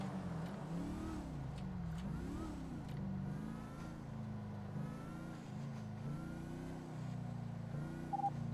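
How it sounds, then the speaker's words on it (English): A sports bike engine in a video game revs steadily throughout, its pitch rising and falling in repeated surges at moderate distance, with no talk over it. "I can hear that fucking bike."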